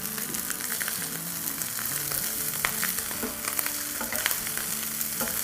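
Fried rice sizzling and frying in a pan over a high flame, a steady crackling hiss with intermittent scraping stir sounds throughout.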